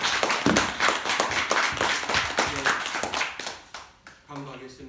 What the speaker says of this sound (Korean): 하나님 아버지 은혜에 감사하여 영광의 박수 잠시 드리겠습니다